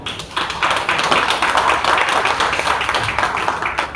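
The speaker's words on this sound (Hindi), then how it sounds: "उसके लिए सबसे पहले बच्चे ही अपने लिए एक बार ताली हो जाए जोरदार" Successful NEET exam students at a coaching institute in Gorakhpur burst into loud, dense applause, with many hands clapping together in a steady rush that lasts the whole stretch.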